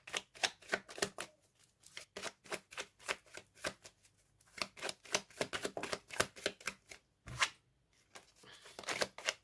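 Tarot cards being shuffled before a reading, a fast run of crisp riffling flutters that repeats in bursts with short pauses, close and fairly quiet, no voices.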